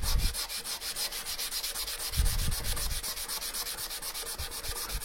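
Close, steady rhythmic scraping of 120-grit sandpaper rubbing paint off a moped part on an AV 68 project, quick back-and-forth strokes repeating evenly with no talking.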